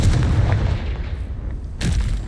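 A Confringo explosive spell blasts in Hogwarts Legacy, a loud, dense low boom rumbling through the whole moment, with a second sharp burst near the end.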